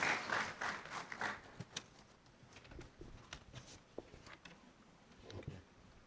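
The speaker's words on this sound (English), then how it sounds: "Please a round of applause even as he comes up." Audience at a university pharmacy school ceremony claps as a speaker comes up, a burst of applause at the start that thins into sparse, scattered claps and fades to quiet room noise.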